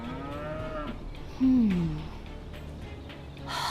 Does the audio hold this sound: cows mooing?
yes